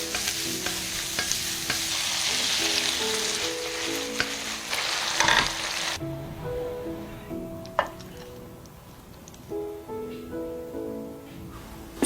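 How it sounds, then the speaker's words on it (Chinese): Scored squid tossed in a hot wok with cooking wine: a loud, bright sizzle and rapid stirring scrapes that suddenly drop to quieter crackling halfway, over soft background music. "鱿鱼要先下锅爆炒一下，"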